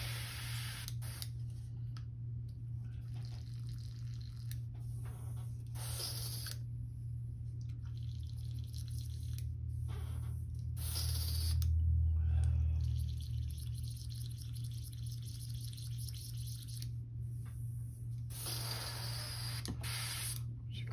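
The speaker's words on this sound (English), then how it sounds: "clean my airbrush real quick." An airbrush is being cleaned, sending out short bursts of hissing spray separated by pauses, over a constant low electrical hum, fairly quiet and close.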